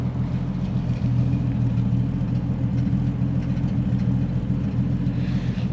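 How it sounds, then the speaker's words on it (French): A 1953 Ford Customline club coupe with a non-original dual exhaust idles at the rear, giving a steady, deep, even engine rumble throughout, close and fairly loud with no talk. "Double ligne d'échappement, vous le notez, probablement pas d'origine évidemment, mais voilà, qui nous sort un joli petit son à l'arrière."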